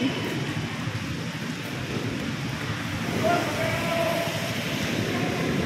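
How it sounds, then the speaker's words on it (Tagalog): Steady rain falling with a constant hiss outside an SM mall, with a rumbling background and faint voices beneath. "Umuulan."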